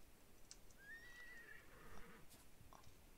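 A horse whinnies once in the Roblox Wild West game, a single rising-and-falling neigh in the middle of the clip over steady low game ambience, with faint hoof clops and no talking.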